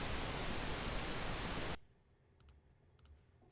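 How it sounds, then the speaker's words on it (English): Pink noise generated in Adobe Audition in a 48K mono file: a steady, full-bodied hiss held evenly for almost two seconds, then stopping sharply into quiet broken by faint ticks. "pink noise"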